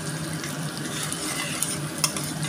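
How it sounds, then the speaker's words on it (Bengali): Ginger and garlic sauté in a pan as the base of a mutton curry. The hot pan gives a steady, close sizzle, with a couple of faint utensil taps. "আদা রসুন দিয়ে ভালো করে কষিয়ে নিয়ে"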